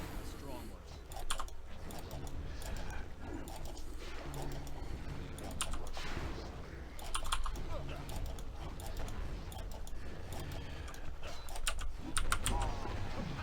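Computer keyboard typing heard as a steady patter of quick clicks while a man plays a video game level, his voice running over much of it.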